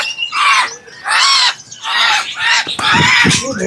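A canary calls in four loud, harsh, squawking bursts close by, each lasting roughly half a second with short pauses between them.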